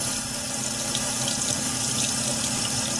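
Hot water runs steadily from a tap, a continuous broadband gush with no talk over it, used for dissolving support material from a 3D printed part.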